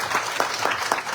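Steady applause from an audience at a Hindu temple kirtan during a Navaratri night celebration, a dense wash of clapping hands with a few sharper peaks, continuous and fairly close throughout.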